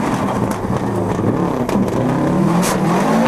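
World Rally cars racing on a tarmac rally stage, engines roaring and revving continuously with shifting pitch, loud and close.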